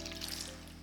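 Milk trickling into a thick mac and cheese sauce, a soft continuous pour under a low steady hum, close and fairly quiet, lasting under a second.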